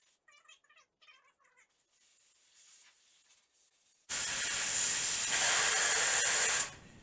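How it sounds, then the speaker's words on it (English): An air gun blows on a PVA-coated bowl mold, a loud steady rushing hiss that starts abruptly after a quiet stretch of faint bumps and scraping, runs for over two seconds and then cuts off. "when I hit it with the air gun"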